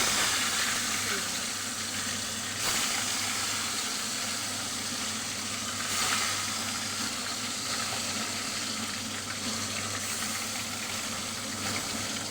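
Fish sliding into hot oil for a Bengali mustard fish dish sizzles and crackles in a steady broadband hiss, continuous and fairly loud throughout with a low hum underneath.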